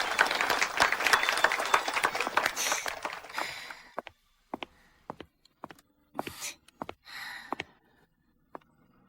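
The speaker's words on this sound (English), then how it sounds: "Please give a warm round of applause to welcome today's leading lady, Miss Serena Vance." An audience claps in applause to welcome the leading lady at a formal gathering, loud and dense at first, then thinning into scattered separate claps and brief bursts before dying away.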